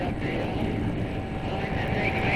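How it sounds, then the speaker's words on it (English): A helicopter flies along a wildfire line, its engine a steady, muffled drone at moderate distance that continues without a break. "the chopper flies along the fire line"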